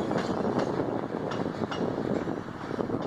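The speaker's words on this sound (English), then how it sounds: "Stone train's moving again." A train rolls past Thorpe Junction with a rushing rumble and rhythmic clicking of wheels over rail joints, steady throughout with some wind noise.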